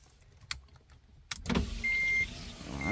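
Automatic motorized seatbelt on an Acura Integra running after the key goes into the ignition: a steady mechanical whir holds for about a second, with clunks before it and a thin tonal whine riding on top.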